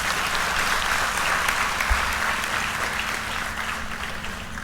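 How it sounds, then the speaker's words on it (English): A university convocation audience applauds the chief guest with dense, even clapping that fades slightly toward the end, and a soft low thump partway through. "I request a round of applause for the Chief Guest."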